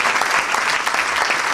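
A congregation applauds at a church gathering, producing a steady, even wash of many hands clapping together, loud and sustained without a break.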